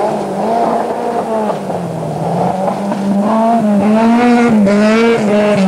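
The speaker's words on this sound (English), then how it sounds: "he's pushing the Opel Manta hard" An Opel Manta rally car driven hard on the 1985 Zimbabwe Challenge Rally, its engine loud and close, revving and shifting pitch through gear changes with no voices.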